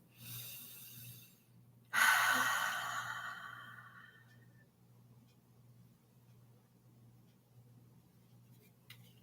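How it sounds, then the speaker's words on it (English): A deep breath drawn in during a full moon ceremony, one long, loud airy inhale that fades slowly into a quiet room with a faint low hum. "take a nice deep breath"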